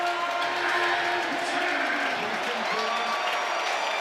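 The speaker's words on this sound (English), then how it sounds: "Crowd on their feet here at Scott" A stadium crowd at a college football game between Louisville and Virginia roars and applauds continuously, a dense wash of cheering and clapping at steady volume with a faint announcer-like voice underneath.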